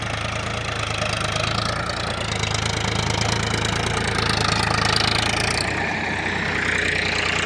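A tractor engine idles steadily with a low, chugging mechanical rumble that stays constant throughout, fairly close by, on a farm where gravel fill is being hauled.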